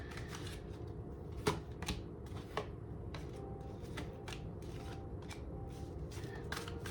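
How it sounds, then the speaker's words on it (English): A deck of Abraham Hicks well-being cards being shuffled close by in a quiet room, with soft, quick riffling and tapping clicks running throughout. "From the Abraham Hicks, ask and it is given. Oh, these are the well-being cards, sorry"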